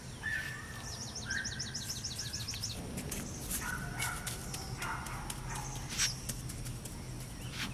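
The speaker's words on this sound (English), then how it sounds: "Neighbor's dog over there is starting to howl" Neighbor's dog vocalizing in a Georgia, U.S.A. yard, heard faintly at a distance. Its calls mix with chirping birds over a steady outdoor background, and no one speaks.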